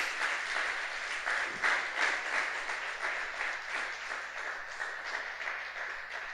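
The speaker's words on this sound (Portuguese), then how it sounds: "Você pode aplaudir ele por isso?" A church congregation applauding during a sermon: a steady wash of many hands clapping at moderate volume, continuous and even across the whole stretch with no voices standing out.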